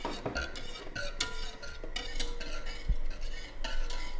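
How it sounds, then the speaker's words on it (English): A spoon stirs a whole-milk sauce heating in a pot for a cheddar and vegetable chowder, making close metallic scrapes and taps against the pot over a faint simmer, with no voices. "Continue to heat while stirring until the sauce thickens."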